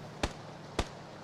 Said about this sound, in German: Schüsse von da.